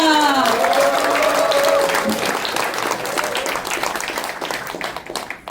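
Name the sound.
audience applause for the five candidates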